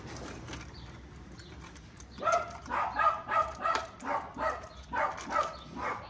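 A dog barks about eight times in a steady, rhythmic series after a couple of quiet seconds, moderately close, over a low background rumble.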